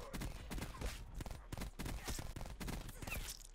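Explosions and gunfire crackle in a shooter video game match, with bursts of shots and blasts in quick clusters, moderately loud and continuous.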